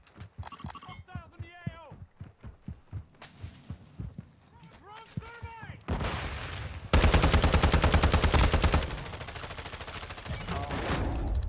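Rapid gunfire from Call of Duty Warzone 2 gameplay, loud bursts and sustained automatic fire in the second half, following a stretch of players talking with scattered shots under their voices.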